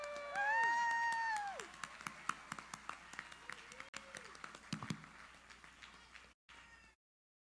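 A USO service salute event crowd breaks into applause that swells loudly at first, then thins into scattered claps with whistles and whoops.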